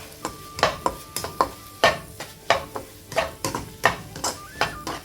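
Spoon scraping and knocking around a pan as curd is mixed into North Indian vegetable curry masala, a quick irregular series of clacks and scrapes over a faint sizzle, close-up with no talking.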